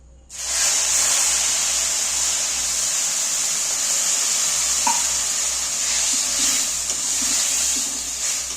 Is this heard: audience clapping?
no